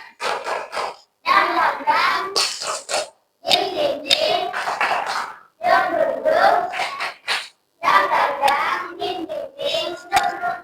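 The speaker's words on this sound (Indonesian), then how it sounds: "Coba sekarang tepuk semangat dulu" A classroom of young Islamic-studies pupils performs the rhythmic 'tepuk semangat' clapping chant, bursts of group clapping mixed with children's shouted chanting in several loud segments separated by short pauses.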